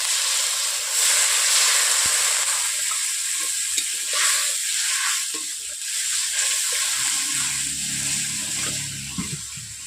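Mustard water poured into a sizzling pan of fish curry, a loud steady hiss and frying sizzle with stirring, later settling into a gentler bubbling simmer, no talk.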